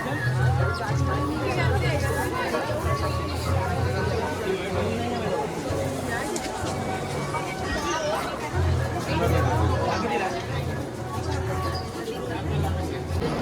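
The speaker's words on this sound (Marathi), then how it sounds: "जाम म्हणजे जाम गर्दी आहे आज" Dense crowd chatter at the Mhasa fair temple on Angaraki Chaturthi, with a packed throng queuing for Ganpati darshan. A steady, close hubbub of many voices carries on throughout.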